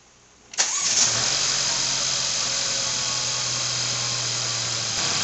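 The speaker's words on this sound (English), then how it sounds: "you need to start up the car. See if the car will start." A 2016 Mercedes GLC300 engine cranks and fires up after new spark plugs, a sudden loud start followed by a steady, even idle hum that continues close by without talk.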